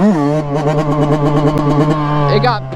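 A Yamaha YZ 125 two-stroke dirt bike engine drones loud and close at a steady high pitch, wavering slightly as it is held up, then drops away near the end.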